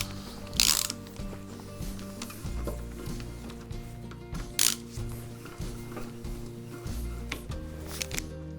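A hand ratchet clicks in short repeated bursts while loosening connecting-rod bolts on a stripped-down 1930s Rosengart car engine, close and fairly loud, with metallic clinks of tools in between.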